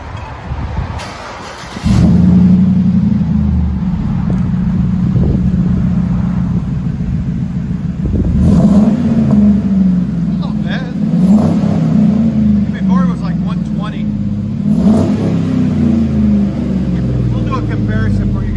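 A Chevy Silverado 1500 with a 5.3L V8, heard from inside the cab, gives a deep, loud exhaust rumble, rising in repeated revs over a continuous throaty drone.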